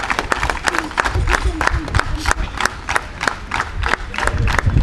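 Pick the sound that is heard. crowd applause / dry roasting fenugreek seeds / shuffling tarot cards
crowd applause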